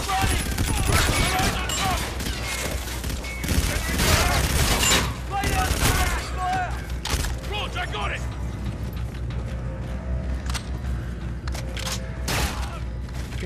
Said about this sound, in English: Time to try out the secret grenades